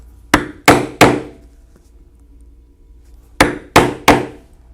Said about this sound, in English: now I will use my 1/8 punch to punch the lacing holes on the back part